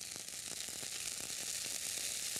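A lentil and rice pancake sizzles steadily in a small dab of oil in a pan, a continuous soft frying hiss with faint crackles and no talking.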